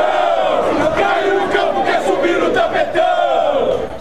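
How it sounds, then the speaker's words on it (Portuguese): A large crowd of football fans shouts and chants loudly, a dense continuous roar of many excited voices throughout. "Torcida empolgada."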